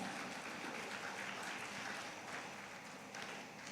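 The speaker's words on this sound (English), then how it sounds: "Please give them all a huge round of applause." Audience applause at a nursing conference, a steady, even wash of clapping heard from a distance, fairly faint and continuous throughout, with no voices over it.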